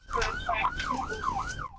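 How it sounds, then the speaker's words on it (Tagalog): A police car siren wails in a rapid rising-and-falling cycle, about four sweeps, loud and close. "Binuhay ng pulis ang sirena at ilaw niya"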